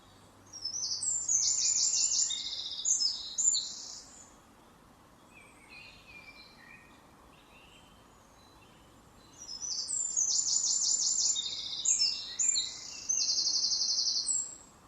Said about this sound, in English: So I'll play the song of the wren for you and see what you think.